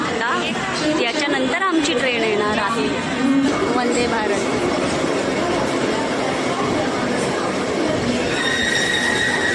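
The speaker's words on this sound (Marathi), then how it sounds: "ट्रेन आमची चालू झालेली आहे" A passenger express train at Latur gets underway with rumbling wheels and squealing metal, while people chatter nearby throughout.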